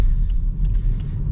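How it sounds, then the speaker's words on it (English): Low, steady road rumble inside a Lexus ES 300h hybrid crossing train tracks, a dense cabin drone with faint bumps but no distinct individual thuds. "Going over the train tracks here."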